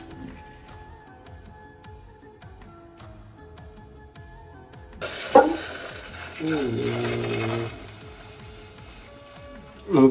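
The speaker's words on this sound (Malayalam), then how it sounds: "പെട്ടെന്ന് ഇരുന്ന് മിക്സ് ആക്കി കൊടുക്കാം കേട്ടോ." Melted butter is stirred into biscuit crumbs in a bowl, with soft scraping and mixing strokes close by, while a steady hum rises in the background partway through.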